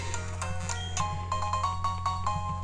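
A phone ringtone from the Pokemon Soul Silver game plays as a bright, repeating electronic melody of short chiming notes over a steady low game-music drone.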